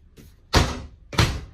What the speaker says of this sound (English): It does have a pocket door.